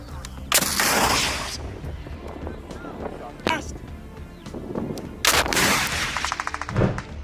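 Russian military equipment is hit in an anti-tank missile attack, with two sharp loud blasts followed by crackling debris and rapid popping bursts, with voices heard between the impacts.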